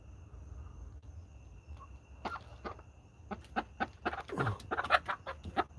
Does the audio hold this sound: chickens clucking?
yes